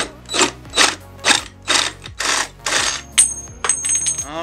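A bicycle seat post being sawn through on a desk, heard as a run of about nine loud, evenly spaced rasping strokes, close and alone.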